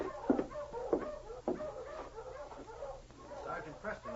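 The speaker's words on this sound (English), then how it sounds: "Sounds like a dog team." Sled dog team approaching in an old-time radio drama, with faint yips and whimpering barks over a low, muffled background and voices talking.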